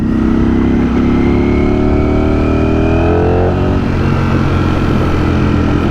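A Ducati Streetfighter motorcycle engine in race mode roars loud and steady up close, its pitch climbing as the throttle opens and then dropping back as it closes, with no voices.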